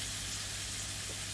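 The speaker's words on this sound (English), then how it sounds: "Nice sizzle." A rib of beef sears in a hot pan, giving a steady, close sizzling hiss that runs without a break for the whole moment, with no talking over it.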